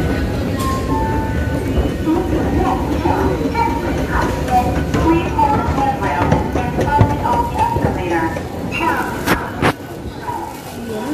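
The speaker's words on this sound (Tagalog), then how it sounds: "Dito na tayo. Sa train station." Train at a railway station, with rumbling rail noise and clattering carriages running steadily throughout under busy ambient sound and nearby talk.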